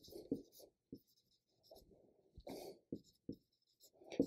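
Chalk or marker writes out notes on a board during a philosophy lecture on critical thinking, in short scratchy strokes and taps that come in uneven bursts with quiet gaps, close and fairly faint, with no talking.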